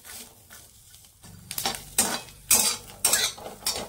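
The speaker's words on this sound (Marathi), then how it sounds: "आता यामध्येच आहे ना ह्या हिरव्या मिरच्या घालून घेतल्यात मी आणि या सुद्धा आहेत ना आपल्याला थोड्याशा डाग पडेपर्यंत भाजून घ्यायचे" Green chilies and chickpeas roasting in a pan for matar kachori filling, stirred with a metal spoon that scrapes and clinks in uneven bursts over a faint sizzle, growing louder toward the end.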